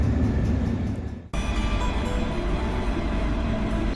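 A Budapest tram runs with a steady, loud rumble and rattle, a brief dip in the noise partway through, and no voices.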